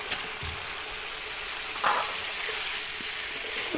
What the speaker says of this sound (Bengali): এবার কড়াইতে মশলা করছি